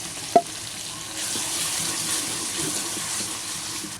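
Chopped tomatoes frying in a pan with garlic, ginger and masala, a steady soft sizzle and hiss after a brief sharp clink at the start, with no talking.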